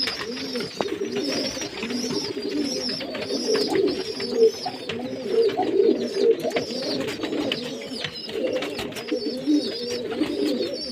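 Pigeons coo steadily in a loft, several birds overlapping in a continuous low, throaty rumble with soft wing and shuffling noises, close and moderately loud throughout.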